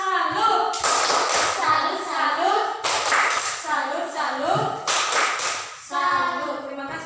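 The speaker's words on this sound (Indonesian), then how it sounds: "Tepuk salut." Primary schoolchildren in a classroom perform a patterned salute clap, loud sharp bursts of clapping in a rhythmic sequence alternating with the children chanting together between the claps.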